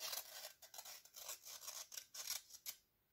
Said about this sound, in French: Hop, donc on y va aussi au petit cutter.